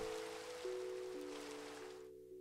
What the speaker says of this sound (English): I've never seen it rain so much in a Minecraft world, I swear.